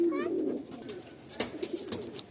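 A pigeon gives a short, warbling coo at the start inside a full loft of selected birds offered for sale. Soft clicks and scattered rustles follow at moderate distance.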